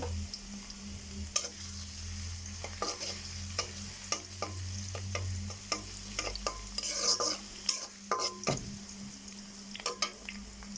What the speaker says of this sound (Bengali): রসুন আর শুকনো মরিচ দিয়ে দিলাম